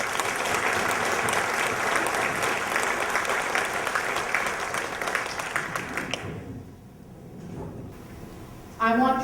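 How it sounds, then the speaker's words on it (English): An audience at a Catholic Women's League convention gives a sustained round of applause for a newly introduced executive, a dense roar of clapping that fades out near the end. "Please give him a big round of applause."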